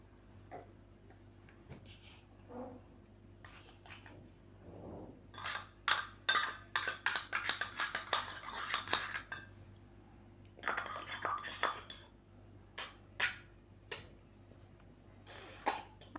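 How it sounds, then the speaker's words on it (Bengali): Rice and lentils with turmeric, ginger and salt being stir-fried in a pot for khichuri, heard as faint, intermittent scraping and clinking of a spoon against metal, coming in clustered bursts with quiet gaps. "তো এখন ভালো করে কষাই নেব ভাজা নেব চালগুলো"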